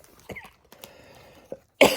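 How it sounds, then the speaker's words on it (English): Several short coughs from a person reading a children's story aloud, scattered singly across the moment with quiet gaps, the last cough the loudest and closest. "Sorry about the cough."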